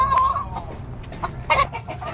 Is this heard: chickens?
yes